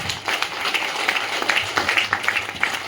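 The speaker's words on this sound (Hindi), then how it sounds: "सो जोरदार अपने लिए तालियां बजाएंगे एक बार से" An audience at a convention program in Chandigarh claps in a steady, dense round of applause, moderately loud and continuous for the whole stretch, with no voices over it.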